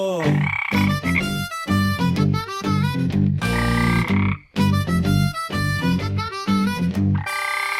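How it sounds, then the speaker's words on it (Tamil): Loud, rhythmic croaking from frogs, repeated in quick pulses and layered like a chorus, nearly continuous with one brief pause. "தவளை சத்தம் கேட்கிது"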